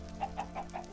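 A Minecraft chicken in the Better Than Wolves mod clucks four times in a quick, evenly spaced run, quiet and alone.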